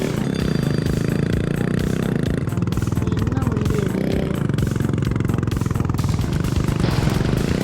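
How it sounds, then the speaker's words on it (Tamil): A Bajaj Discover motorcycle engine in a video game, a loud continuous buzzing drone that holds steady throughout and rises slightly in pitch, with no speech. "கேமில் கூட டிஸ்கவர் வண்டி வந்துட்டேன்."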